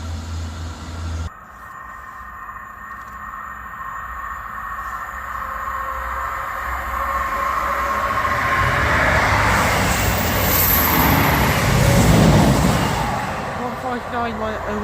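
South Western Railway unit 158881 on a Basingstoke to Salisbury service passes by, a low rumble that rises from faint to a loud roar near the end and then starts to fade, with no one talking.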